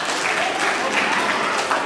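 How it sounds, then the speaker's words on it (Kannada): Children clapping at a school prize ceremony, a steady, dense wash of applause from a large group, fairly close and even throughout. "ಮಕ್ಕಳೆಲ್ಲ ಈ ಕಡೆ ಚಪ್ಪಾಳೆ ಹೊಡಿಬೇಕಂತ ಹೇಳಿದ್ದೆ ಅಲ್ವಾ?"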